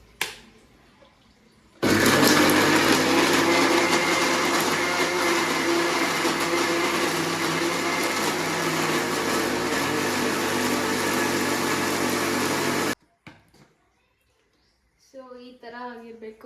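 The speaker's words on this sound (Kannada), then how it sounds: "ನೋಡಿ, ಇದಕ್ಕೆ ಸ್ವಲ್ಪ ನೀರು ಹಾಕ್ಕೊಂಡು ರುಬ್ಕೊಳ್ಳೋದು." A mixer grinder whirs loudly and steadily for about eleven seconds while grinding coriander masala with a little water for chicken chops, then stops abruptly, followed by quiet and a brief voice.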